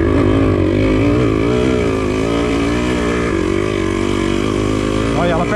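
A Yamaha DT180 trail motorcycle engine labours uphill with a steady, loud, strained drone that wavers as it loses power, with a faint voice underneath.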